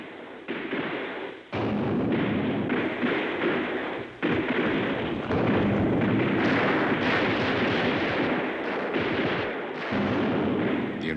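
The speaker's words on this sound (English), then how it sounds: "again faced unexpected fire from Soviet ground rockets" Soviet ground rockets firing and exploding during the Vietnam War at Tchepone: continuous loud rumbling barrages of booms and blasts, with brief dips between volleys, in old newsreel-style combat sound.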